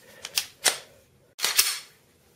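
Trigger pull and reset of a Ruger SR9 pistol, heard as a few sharp, close mechanical clicks: two quick snaps, a pause, then a firmer click with a short rattle.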